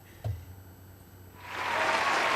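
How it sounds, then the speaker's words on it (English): After a brief thump and a moment of quiet, applause swells in and holds steady, a broad wash of clapping from a crowd. "to get her round of applause"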